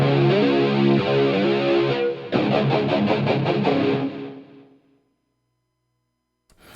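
Heavily distorted electric guitar rings out loud and full for about five seconds, a dense sustained chord followed by a burst of choppy strummed hits, then cuts off into near silence before a faint click at the end.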